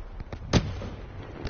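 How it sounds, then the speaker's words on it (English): Grenades fired and exploding in the Call of Duty: Black Ops 2 video game, with one sharp, close blast standing out among softer thuds over a steady game background. "I am just firing grenades."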